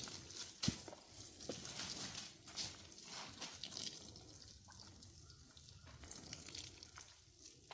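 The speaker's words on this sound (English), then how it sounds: "We'll pour a little 20-20-20 over the top of them." Liquid 20-20-20 fertilizer splashes and trickles steadily onto tomato plant leaves and soil close by in a high tunnel, a soft continuous pouring hiss with faint rustling.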